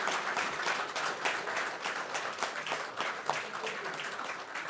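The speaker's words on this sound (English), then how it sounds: "So can I request for one huge round of applause for the NBBL team?" Dense, continuous audience applause at a tech product launch event, many hands clapping together at moderate loudness throughout with no clear break or speech.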